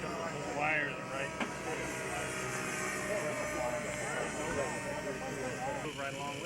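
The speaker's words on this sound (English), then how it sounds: "this is a 30 to 55 class helicopter" A 30 to 55 class radio-controlled model helicopter flies at a 1994 fun fly in Bakersfield, its steady high engine whine running continuously beneath a busy crowd and voices talking.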